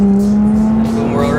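A Nissan 350Z with an automatic gearbox revs up as it downshifts from fourth into third at around 65–70 km/h, giving a loud, steady engine drone with a rising whine heard from inside the car, with a voice talking over it.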